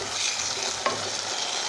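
Carrots and Century Tuna stir-fried in a pan give a steady close sizzle with light scraping stirs, including one brief knock, and no voices.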